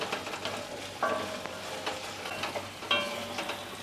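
Tomatoes fry for dal in a pan, giving a steady soft sizzle while a spoon stirs and scrapes the pan in two louder clinking strokes, close and alone without speech.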